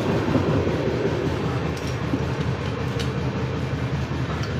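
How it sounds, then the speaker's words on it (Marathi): A fast-moving train on the Borivali to Delhi route roars steadily on the rails at night, a loud, dense rattle and rumble heard from close up with no talking. "पूर्ण फास्ट ट्रेन चालली आहे."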